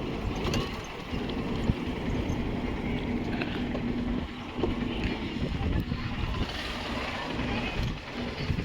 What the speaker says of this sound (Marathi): बोट लागली आहे आपल्याला या बोटीने जायचं आहे